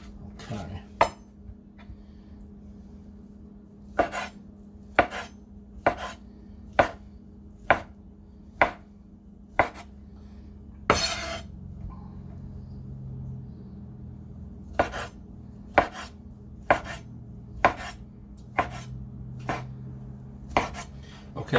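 A knife chops cooked sausage on a cutting board in sharp, separate strokes, some in quick pairs and some spaced apart. A short scraping pause falls partway through, and low background hum sits beneath the chopping.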